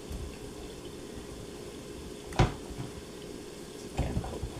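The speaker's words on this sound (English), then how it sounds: "I'm going to wash them now." Cut ingredients for Jamaican brown stew chicken are rinsed in water, a faint running-water wash with a couple of brief louder splashes and knocks.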